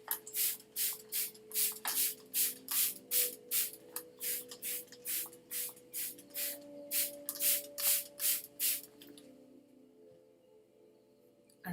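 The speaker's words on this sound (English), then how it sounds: "you could also give it a bit of a spray" A hand spray bottle mists a houseplant in about twenty quick, evenly spaced hissing squirts, close and crisp, then stops, leaving a faint background hum.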